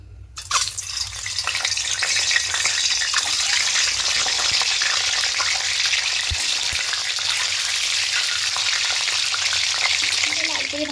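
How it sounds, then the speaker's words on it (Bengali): Eggs sizzle in hot white oil in a kadai, a steady, close, crackling fry that runs loud and unbroken after a brief quiet start, with a few small pops and clinks. "ডিমগুলো দিয়ে দেবো।"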